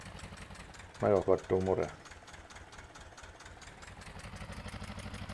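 Tractor engine in the Farming Simulator 15 video game rumbles steadily at a low, even drone throughout, with a brief burst of speech over it early on.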